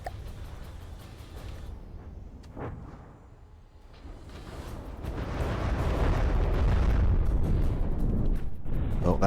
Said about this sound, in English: Big explosion, but nothing happened.